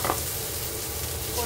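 Steady sizzle and frying as flattened rice pulao cooks in a pan, a continuous hiss at even loudness with faint stirring and no talk.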